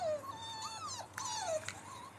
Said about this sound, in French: Dans le coin on a beaucoup de chiens ici. Donc ça aboie souvent.